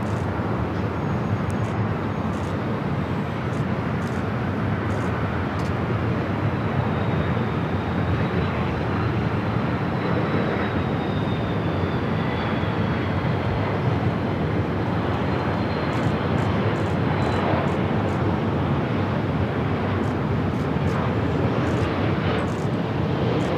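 A heavy airliner takes off from runway 24 left at LAX, its engines roaring loudly and steadily throughout, a broad continuous rumble with a faint whine above it.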